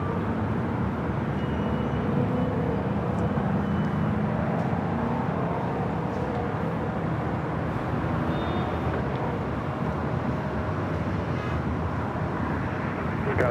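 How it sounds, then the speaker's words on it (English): A Southwest Boeing 737 MAX 8 taking off from LAX, a distant broadband jet roar holding steady throughout with faint whine, no talk. "This is Southwest 3273 taking off to Oakland on the MAX 8."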